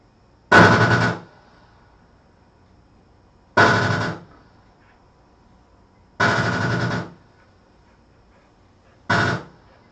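Four separate bursts of automatic gunfire from a firearm fired off a bipod, each rapid string lasting about half a second to a second, spaced a few seconds apart and loud against a quiet background.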